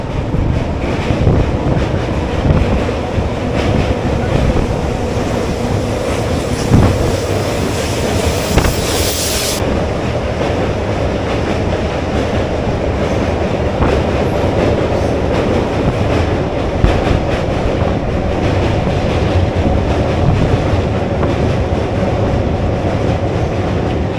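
A Bandel–Howrah local train rolls across Jubilee Bridge with a loud, continuous rumble, steady wheel clatter and rushing wind, heard close from on board.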